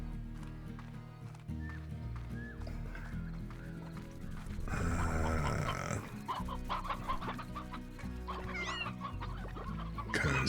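Hens cluck and chatter inside a hen house in the game Slime Rancher, mixed with background music, footsteps and other game noises, with a louder burst of activity midway through.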